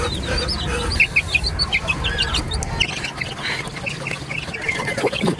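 Ducks and chickens in a backyard pen, busy overlapping clucks, quacks and squawks at close range over a constant rushing background.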